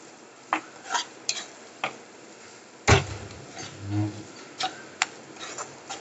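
Spoon clinks and scrapes against a pot or bowl while an egg mixture with salt, green chilli and red chilli powder is stirred, giving scattered, uneven taps with one louder knock near the middle and no talk.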